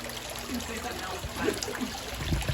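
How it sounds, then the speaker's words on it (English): Water from two vintage fountains trickles and splashes steadily at a moderate distance, with soft background murmur. "You're gonna hear a lot of water."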